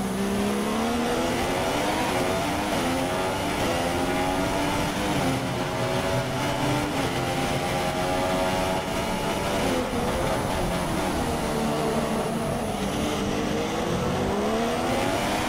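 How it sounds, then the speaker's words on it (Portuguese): Mercedes engine in a Williams car during the Monaco Grand Prix in the F1 2016 video game, a loud continuous high-revving whine with rising and falling pitch sweeps as the car shifts through gears, filling the whole stretch. "vamos ouvir aí o trabalho do motor da Mercedes no carro da Williams"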